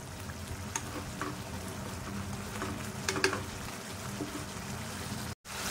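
Tomato puree cooks in oil in a pan for Kashmiri lal paneer, a steady close sizzle and bubbling simmer with small pops throughout, broken by one brief dropout near the end.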